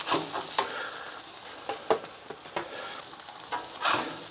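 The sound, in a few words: hamburger patties with melted cheese sizzling on a griddle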